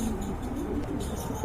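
Pigeons at a Bangladeshi pigeon seller's stock give low, soft cooing in a short burst against a faint murmur of background noise.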